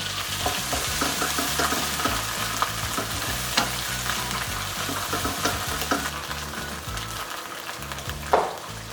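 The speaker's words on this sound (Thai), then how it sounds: "ผัดจนหอมนะครับไฟอ่อนๆแล้วก็ค่อยๆเติมหัวกะทิเข้าไปนะครับ" Red curry paste stir-frying in a pan over low heat, a steady soft sizzle with repeated scraping strokes of a spatula and a few louder clinks.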